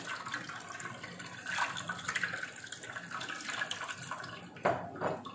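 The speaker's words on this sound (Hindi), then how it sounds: "अब इसके अंदर हम थोड़ा सा पानी डालेंगे" Water poured into a bowl of tamarind and dried plums for sherbet, giving a steady close splashing and trickling stream that swells midway and ends with a few louder splashes, with no talk.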